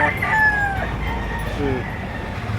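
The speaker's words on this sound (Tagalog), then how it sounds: "marami pang manok ganito oras" A bullstag chicken crows loudly and close, a rising then falling call, followed by softer clucking against a noisy outdoor background.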